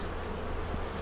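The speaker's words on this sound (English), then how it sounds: "Here it is here with bees all over it." Honey bees swarm over a hive excluder on a balcony beehive, giving a dense, steady buzz up close with no pauses and no talking.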